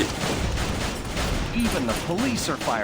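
Rapid bursts of gunfire from zombie police in the pixel-art video game Fury Survivor: Pixel Z crackle continuously amid a dense, noisy mix, with a voice talking over the shooting.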